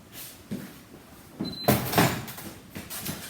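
A microwave door pops open with a click and latch thud, followed by a couple of softer knocks and handling noises in a quiet kitchen, while rice cooks in it.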